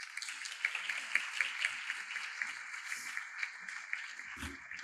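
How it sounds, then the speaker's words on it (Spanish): Quiet, distant applause from the audience at an institutional opening event for EuropaSeSiente 2024, a steady patter of clapping with faint cheering, held at low level for several seconds. "Un aplauso."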